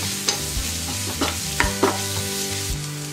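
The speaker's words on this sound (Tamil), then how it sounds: "எண்ணெயில் கொஞ்சம் வதங்கட்டும்." Tomato with turmeric, chilli powder and asafoetida frying in oil for Bombay chutney, a steady close sizzle broken by several scraping stirs of a spoon in the pan, with no talking.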